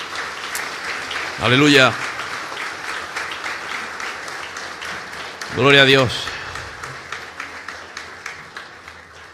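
Applause from a church congregation continues steadily under the service, with two short bursts of voices calling out over the clapping.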